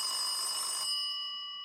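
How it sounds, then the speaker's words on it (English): An old telephone bell rings with a bright metallic trill that stops abruptly, leaving a fading tonal ring in a quiet room. "I could hear something that sounded almost like an old telephone ringing within my trailer."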